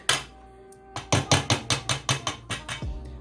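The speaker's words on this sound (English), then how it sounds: "Let me see if I can get some of this off of the whisk." A whisk coated in beer batter for fried cod is knocked against a bowl, giving a fast, even run of about ten loud, close clacks after one opening knock.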